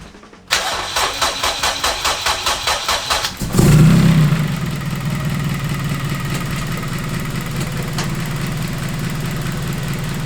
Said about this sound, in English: Let's start this motherfucker up.